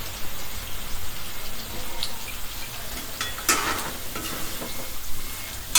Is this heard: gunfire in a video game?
no